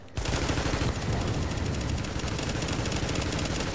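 Gunfire in the video game The Division: a dense, continuous automatic burst of rapid shots that runs almost the whole time at steady loudness, with no voices over it.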